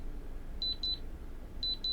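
Anker Soundcore K20i earbuds sounding their find-device alarm: quiet, high-pitched electronic beeps that come in short pairs and repeat over a low background hum, with no talking.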